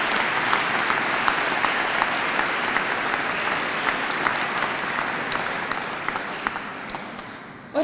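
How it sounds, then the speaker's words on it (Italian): A large audience at a Christmas concert in Ponte Lambro applauds children and young band musicians, a loud, continuous clapping texture with occasional sharper individual claps that fades slightly toward the end. "Quindi vi chiedo ancora un grandissimo applauso per i nostri bambini e per i piccoli musicisti del corpo"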